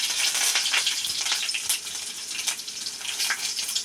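Garlic, curry leaves and dried chillies frying in hot oil for a watermelon peel stir-fry, a steady close, loud crackling sizzle with occasional sharper pops throughout.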